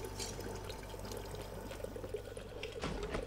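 Water fountain in the video game Prey being drunk from, with a steady, close stream of pouring, splashing water running throughout the short moment, mostly without voices.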